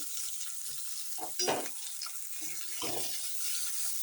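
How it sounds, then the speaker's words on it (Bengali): Chopped green beans and carrots hit hot oil in a wok for vegetable chowmein, giving a steady close sizzle with a few louder bursts of stirring and spattering. "তেলটা এখন গরম হয়ে গেছে এখন প্রথমে বিনসগুলো দিয়ে দেবো দেখো কুচিয়ে নেওয়া বিনস তারপর গাজর"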